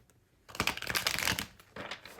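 Tarot cards riffle and slap together in a quick, close, crisp burst of shuffling, pausing briefly before a second flurry.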